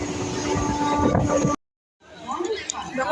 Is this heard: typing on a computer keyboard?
no